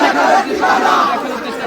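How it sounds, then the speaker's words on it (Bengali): A dense crowd of students chanting slogans at a rally on the Dhaka University campus during the DUCSU election, loud overlapping voices surging and shouting together close by. "স্লোগান দিয়ে সামনের দিকে আমরা রয়েছি"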